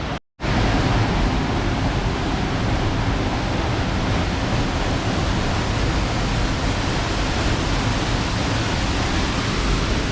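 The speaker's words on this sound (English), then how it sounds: "Another waterfall up there." A waterfall in the Watkins Glen gorge roars as a loud, steady, unbroken rush of falling water after a brief silent moment at the start.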